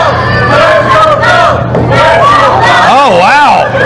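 Wrestling crowd chanting in rhythmic unison in an arena, loud and close, with whoops and a few rising-and-falling voices standing out at the end.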